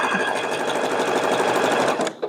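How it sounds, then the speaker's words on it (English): A sewing machine stitches machine appliqué in a loud, steady whir of rapid needle strokes that holds for about two seconds, then stops abruptly. "I can just start sewing and stop sewing underneath that wing"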